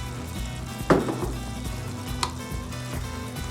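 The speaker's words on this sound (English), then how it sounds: "we're going to add olives at this time. And then we're going to stir them around." Olives being stirred into sizzling Cuban picadillo, a steady frying hiss with a sharp clatter of spoon against pan near the start and a smaller knock later.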